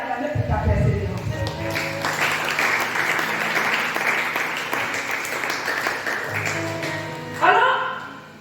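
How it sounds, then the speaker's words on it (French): A church congregation breaks into sustained applause and cheering, a dense wash of clapping that swells and holds for several seconds before fading, with a voice briefly heard before and after. "je vais d'abord te demander d'acclamer pour ta persévérance"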